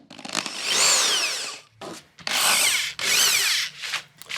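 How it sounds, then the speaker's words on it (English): A power drill bores a pilot hole through plywood for a van furniture build. Three close, loud bursts rise and fall in pitch as the bit spins up and bites into the wood, with short pauses between them. "make a little pilot hole, which is just large enough for us to fit the jigsaw in"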